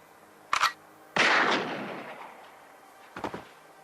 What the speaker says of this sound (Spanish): Un disparo en la sesera puso fin al cansino interrogatorio de Rocco.